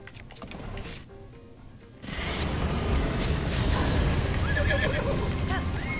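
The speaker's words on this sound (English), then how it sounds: "Of course it gives me my crummy horse" A horse neighs amid galloping hooves and wind in the video game The Legend of Zelda: Breath of the Wild during the Calamity Ganon fight, the whinny rising over a loud, busy game soundscape.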